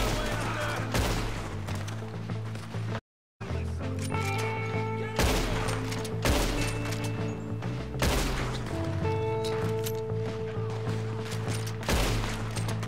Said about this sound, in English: We're gonna have to shoot our way up there!